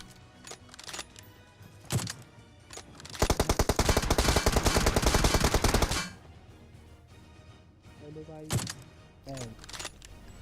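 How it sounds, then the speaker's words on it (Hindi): A single M24 sniper rifle shot in a video game rings out amid ambient game noise, followed by a sustained burst of rapid gunfire lasting a few seconds, then quieter scattered impacts. "यहाँ पे एक गोली चलाता हूँ, लगी नहीं कहीं भी"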